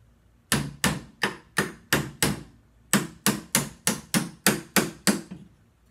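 Repeated sharp metallic taps knock an AR-15 part loose during cleaning: about a dozen close, crisp strikes in a steady rhythm with no talk.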